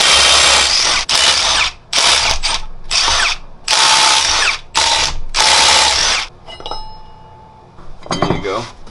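A power tool unbolts the rear sprocket on a 1980 Kawasaki KZ750 LTD, loud repeated bursts of whirring impact rattle with short pauses between, followed by metallic clinks of loosened parts.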